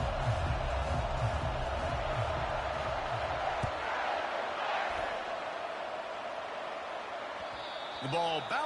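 A football stadium crowd, heard in a video game broadcast at kickoff, makes a loud, continuous wash of cheering and roar. A commentator's voice runs over it, and the noise eases a little toward the end.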